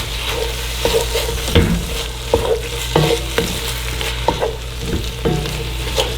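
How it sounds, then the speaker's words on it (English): Worcestershire sauce and garlic being stirred into a pot of seafood gumbo: a constant sizzle under repeated scraping spoon strokes, close and fairly loud, with no talk. "Now I'm gonna add that America's Worcestershire sauce and the garlic. Go ahead and add that to it, y'all. Just kind of stir that in."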